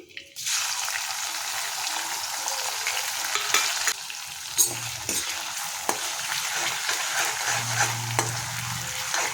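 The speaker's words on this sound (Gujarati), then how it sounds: "તો હવે આપણે એમાં આદુ લસણ મરચાંની પેસ્ટ નાખીશું" Ginger, garlic and chili paste hits hot oil with crackling cumin seeds, giving a loud, steady sizzle and frying hiss close up, with a few scrapes of stirring and no talking.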